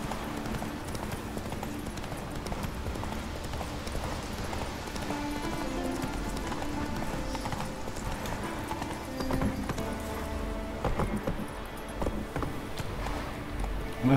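Horse hooves clip-clop steadily in the video game Witcher 3, a continuous rhythmic run of hoofbeats at moderate loudness over game ambience, with a brief whinny-like touch.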